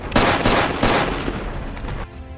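Gunfire in a police crime film: two or three loud, close shots ring out in quick succession, then fade into a fainter echoing tail.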